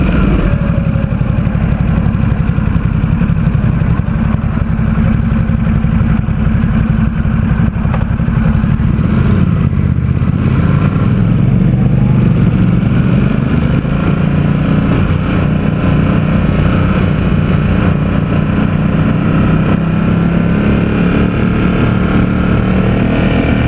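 A 2017 Ducati Supersport S rumbles loud and continuous while ridden through San Francisco, the engine note easing down mid-ride then building again as it runs through the low gears.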